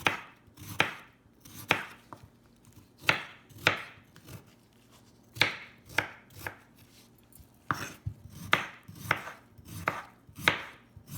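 Knife chopping potatoes on a board for onion bhaji, a steady series of sharp, close thuds in uneven bursts with short pauses, no talk.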